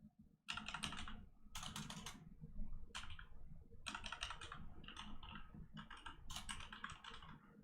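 Rapid bursts of typing on a computer keyboard, clattering in several uneven runs with short pauses between, close and steady over a low background hum.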